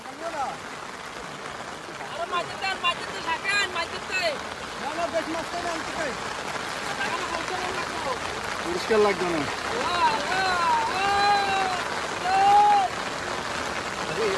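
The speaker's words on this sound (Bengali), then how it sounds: "প্রচন্ড বৃষ্টি হচ্ছে।" Heavy rain pours steadily during net fishing for fish, a dense, continuous hiss that fills the whole stretch while people talk over it.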